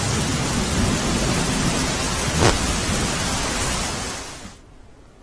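Heavy rain pours steadily over Umarpada in Surat district, a dense, loud hiss broken by a brief rumble near the middle, then falling away to near quiet at the very end.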